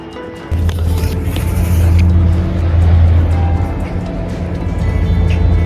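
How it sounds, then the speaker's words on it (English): Ferry approaching its terminal on the Isle of Cumbrae, a steady low engine rumble with a strong hum that swells in and stays loud, mixed with water and wind noise close by. "There is the ferry coming now."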